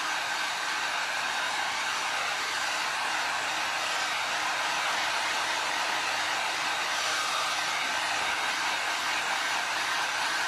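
Steady, loud blowing hiss of a heat gun drying resin on oyster shell glass art, constant and uninterrupted throughout.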